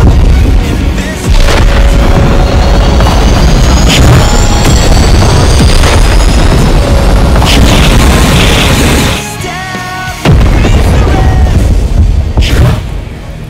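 Sonic hurling fire flower fireballs in a video game, with loud continuous booms, bursts and explosions filling the scene, a brief lull near the end before the blasts resume.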